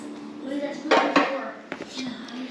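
Freshly baked bread taken out of metal pans, close clanks and knocks of pans being handled, with a voice speaking between the sounds.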